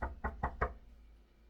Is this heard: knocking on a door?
yes